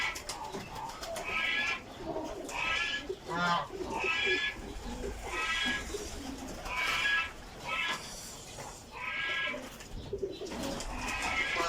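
Pigeons coo steadily in a rhythmic series of throaty calls repeating every second or so, nearby at a pigeon farm, with low background rumble throughout.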